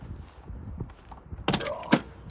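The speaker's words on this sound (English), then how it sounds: "That door's hard to open." An RV door on a 2008 Holiday Rambler Vacationer is pulled open, with a couple of sharp thunks and a brief latch rattle in the middle of the clip after quiet background shuffling.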